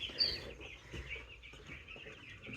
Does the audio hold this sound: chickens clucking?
yes